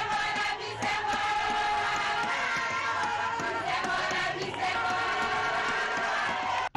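A large crowd presses around the head of state on a visit to Zongo, a loud continuous roar of cheering, shouting voices and ululating cries that stays dense and unbroken throughout.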